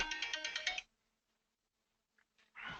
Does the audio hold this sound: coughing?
no